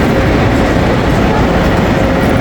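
A bullet train running from Mecca arrives at Medina railway station, with a loud, steady rushing rumble that holds throughout and no voices.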